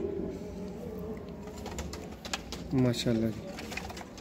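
Teddy pigeons on a rooftop in Sialkot give a couple of short, throaty coos near the end, over a low background murmur, with a brief spoken word nearby.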